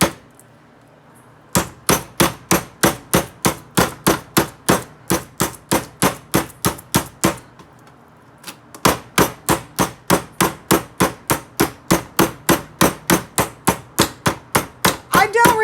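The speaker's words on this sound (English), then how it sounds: "This is tenderizing my chicken meat." Chicken meat is pounded to tenderize it, dozens of loud, sharp, evenly spaced clanging strikes in a steady rhythm, with a short pause partway through before the pounding resumes.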